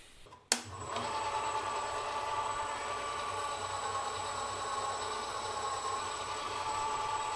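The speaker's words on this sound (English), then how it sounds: "that's the motor installation working" A CNC7x12 mini lathe motor starts with a sharp click, then runs the spindle at a steady, fairly loud whine with a constant mechanical hum and tonal drone, no talking.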